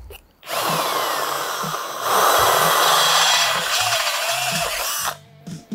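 A power drill drives an 11/32 bit into the axle housing of a 1966 GMC rear axle, one continuous steady whine lasting about five seconds, rising in pitch and load midway, then stopping abruptly.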